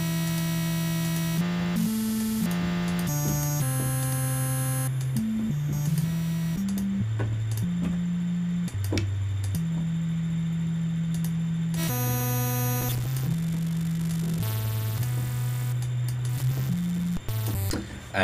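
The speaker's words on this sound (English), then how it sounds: "and then just distort it like crazy, so that you get these real crunchy, aggressive but smooth sounds" A synth sound pushed through heavy multiband saturation comes out crunchy and aggressive, with stepping bass notes under buzzing, noisy upper layers that shift and cut in and out over a long stretch, loud and with no talking.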